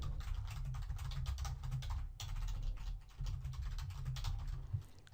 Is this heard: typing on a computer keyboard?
yes